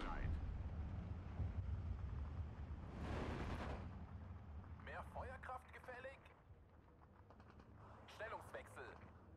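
Artillery shell striking a unit in Steel Division 2, heard as a loud rumbling blast with a crackling burst partway through, followed by sharp scattered impacts and clicks under ongoing player talk.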